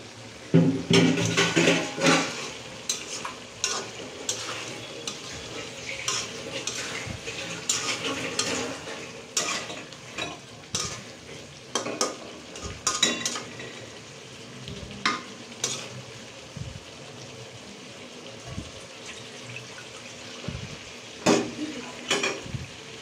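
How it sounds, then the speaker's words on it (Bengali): Pigeon meat frying in a pan while being stirred steadily, with a continuous sizzle under repeated scraping and clinks of the utensil against the pan, close and fairly loud throughout. "এভাবে কিছু সময় ধরে জ্বালাইতে হবে যতক্ষণ পর্যন্ত মাংসগুলো নরম হয়ে মিশে না যায়।"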